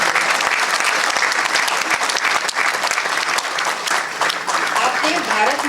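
Sustained, loud clapping from a packed hall welcomes a doctor being honoured with a lifetime achievement award, an unbroken wash of many hands with slight swells and a soft crowd murmur beneath.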